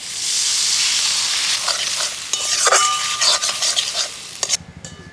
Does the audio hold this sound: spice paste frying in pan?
yes